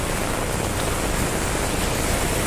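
A heavy downpour in Viman Nagar, Pune, makes a dense, unbroken roar of rain, loud and close, with no talking.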